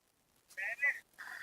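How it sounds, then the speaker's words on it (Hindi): A mobile phone rings with a tonal electronic ringtone in three short bursts separated by brief gaps, heard fairly close in a quiet room. "एक मिनट फोन बज रहा है। टिडिंग टिडिंग बोल रहा है।"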